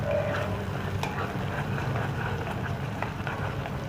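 Yogurt mixed with cumin and other ground spices is stirred in a hot pan for methi paneer matar: a steady, close scraping sizzle with soft clicks of the spoon, continuous throughout.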